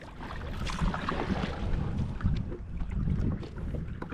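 A kayak moves through water near Munroe Island in Kollam, with irregular paddle splashes and dripping over steady wind buffeting the microphone, close and fairly loud, no talking.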